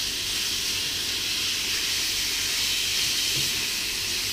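Steady, loud sizzling hiss of beef frying hard in a hot wok, continuous and unbroken with no voices.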